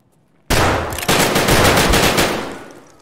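Heavy automatic gunfire in the shooter game Escape from Tarkov, a loud sustained burst starting abruptly, briefly dipping and then resuming as a continuous rattling volley that fades slightly toward the end, with no talking.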